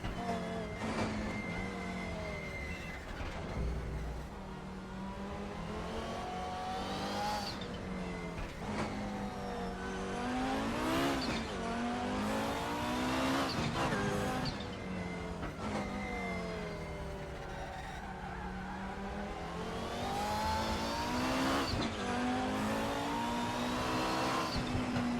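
An Audi Quattro GTO race car lapping the Nordschleife in a racing game, its turbocharged engine revving up and down through repeated gear changes, loud and continuous throughout.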